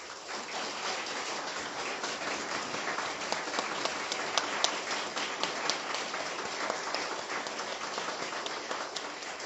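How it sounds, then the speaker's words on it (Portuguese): An audience at a talk on spirituality breaks into steady applause, a dense, even wash of many hands clapping that carries on at moderate volume without pause. "E eu queria pedir palmas de vocês para ela."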